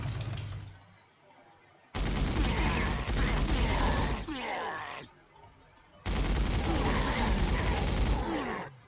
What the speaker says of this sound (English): Firing everything we have.